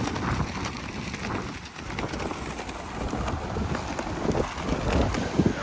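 Strong wind roars and buffets across a beach, pounding the microphone with loud, uneven gusts that rise and fall continuously, with no voices present.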